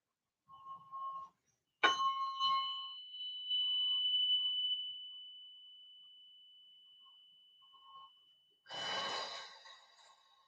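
A struck tuning fork used in biofield tuning rings out as a clear sustained tone that slowly decays over several seconds, preceded by a short tap and followed by a breathy exhale near the end.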